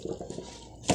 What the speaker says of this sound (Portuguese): Vou derramar essa água que tá com vinagre.